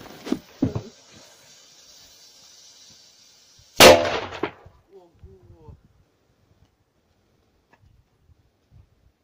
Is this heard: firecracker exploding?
yes